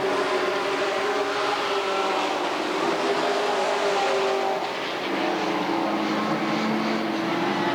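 Race cars at Redwood Acres Raceway pushing through turns three and four, several engines roaring together at close range with overlapping, rising and falling pitch, steady and loud throughout, no voices.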